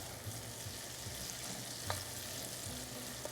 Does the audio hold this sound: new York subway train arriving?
no